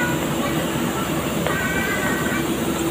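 A train rumbles steadily nearby with a continuous rolling hum and faint metallic squeals, no talking.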